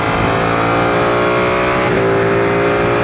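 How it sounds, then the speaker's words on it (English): A 2016 Ducati 959 Panigale L-twin revs hard under full acceleration, loud and close, with a quick-shifter upshift cutting the rising engine note briefly midway. "Quick shifter is very smooth. Ah, that L-twin is fun."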